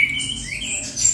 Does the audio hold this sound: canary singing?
yes